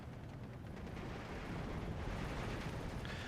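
Mortar fire in the World War II strategy game Steel Division 2, heard as a dense, continuous low rumble of distant explosions and battlefield din with no clear single blasts standing out.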